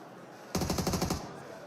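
A rapid burst of about ten automatic gunshots in a PUBG Mobile match, sharp and close, lasting around half a second and then fading into background game noise.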